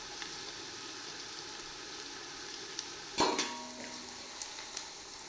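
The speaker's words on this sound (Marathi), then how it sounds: "तेलामध्ये कांदा हे सगळं मसाले टाकलेले परतून" Onion and whole spices fry in oil in a pan for chicken biryani, a steady sizzle broken by a sharp metallic stir or clink of the utensil partway through, close and without talk.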